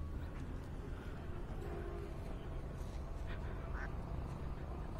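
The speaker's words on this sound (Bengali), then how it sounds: "বিলের ভিতরে যে হাঁস আসতেছে" Ducks quack faintly from a distance on a rural Bangladeshi wetland with white water lilies, a few scattered calls rising over a steady outdoor background hum.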